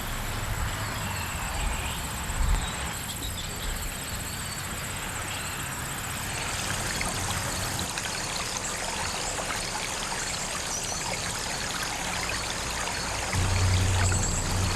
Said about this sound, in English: the pump is ready to be turned on and the waterfall fine-tuned.